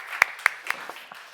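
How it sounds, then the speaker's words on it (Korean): Church seminar listeners give a brief round of clapping: a few crisp, evenly spaced claps up front, then softer scattered ones trailing off within about a second. "박수 한번 쳐줘"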